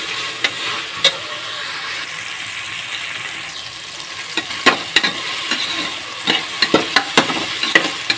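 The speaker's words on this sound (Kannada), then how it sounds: "ಇದು ಸ್ವಲ್ಪ ಮಾಡಬೇಕು, ಅಂದರೆ ಟೊಮೆಟೊ ಸ್ವಲ್ಪ ಫ್ರೈ ಆಗಲಿ." Tomatoes frying in a pan while being stirred, a steady close sizzle broken by repeated spatula scrapes and clinks that grow busier toward the end, with no talking.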